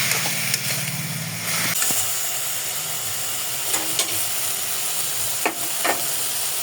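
Vegetables with salt, turmeric and coriander powder are stir-fried in a pan, giving a constant loud sizzle, with a few sharp scrapes and taps of the spatula.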